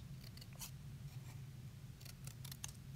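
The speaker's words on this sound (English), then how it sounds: "do you see how I cut out the 2 triangles right there from some scrap paper?" Scissors snip small triangles from scrap paper for a craft project, giving faint, crisp cuts in short clusters over a low room hum.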